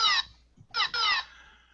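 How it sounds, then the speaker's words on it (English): Synthesized pew pew blaster effect from a prop gun's small piezo buzzer speaker: three bright descending electronic zaps, one short and then two close together, loud and clean with nothing else behind them. "Right now I just did my first attempt at code for sound, which is a pew pew."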